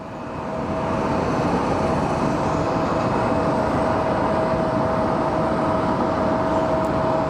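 A CRJ regional jet at Sky Harbor Airport builds quickly into a loud, dense roar with a faint high whine, then holds steady and powerful to the end.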